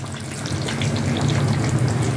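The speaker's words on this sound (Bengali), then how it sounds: "এবারে আমি দিয়ে দেবো পরিমাণ মতো জল" Water poured into sizzling masala in a pan while a Bengali chicken curry cooks, giving a steady, close hiss and bubbling rush that swells slightly and continues without pause.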